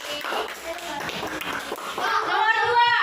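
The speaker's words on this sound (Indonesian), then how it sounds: "Kasih tepuk tangan dulu buat temannya." A classroom of children clap for a classmate, a dense burst of many hands slapping together for about three seconds, steady and fairly loud, with children's voices mixed in.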